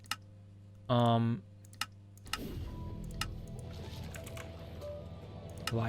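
Scattered computer keyboard clicks, a few sharp taps spread out, with a short tonal beep early on and low background noise.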